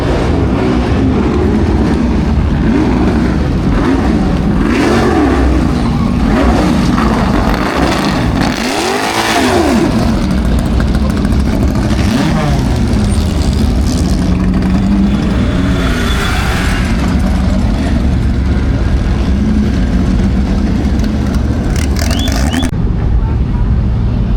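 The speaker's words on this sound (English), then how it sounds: "We have all these cars coming through." Car engines, including Porsches, roar past one after another at Laguna Seca Raceway's Corkscrew during a hillclimb, revving and fading, with a crowd murmuring and people talking over the steady, loud traffic noise.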